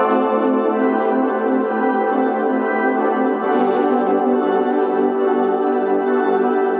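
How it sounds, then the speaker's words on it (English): Eight-bar electronic music loop built in Reason Compact on iOS, playing alone at steady volume with layered sustained synth tones and a repeating pulsing pattern, loud and continuous throughout. "an 8-bar loop that sounds like this."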